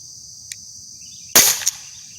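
An air gun fires a single sharp, loud shot outdoors, followed by a quick metallic tick. A faint click comes just before it, and steady insect chirping runs behind.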